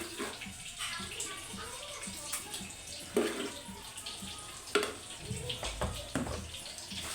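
Water is poured into a cooking pot of Malabar spinach with green chilies, turmeric and salt, a continuous splashing pour broken by a few clunks of the pot, with no talk.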